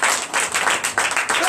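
A church congregation applauds during a Sunday service in Benin, many hands clapping in a dense, steady wash that fills the room, with voices mixed in.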